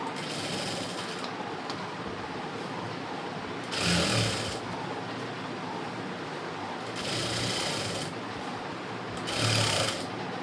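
A sewing machine stitches an embroidered blouse with a steady, continuous mechanical whir close up, broken by a few brief louder surges, with no talking.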